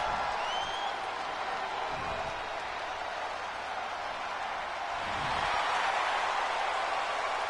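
Video game crowd in WWE 2K23 reacting to a wrestler's entrance in a wrestling arena, a steady roar of cheering and applause that swells louder toward the end, with no talk over it.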